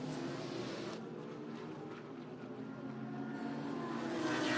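GT racing cars brake into Tarzan corner at Zandvoort during an ADAC GT Masters race, heard as a faint, distant broad roar of engines that swells slightly toward the end.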